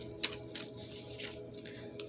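Soft, quick riffling and flicking of large cards being shuffled, a few crisp bursts spaced unevenly over a steady low hum, fairly quiet and close.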